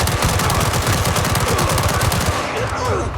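Continuous automatic gunfire in Gangstar Mirage City: a loud, close, rapid stream of shots that holds steady, then tapers off near the end.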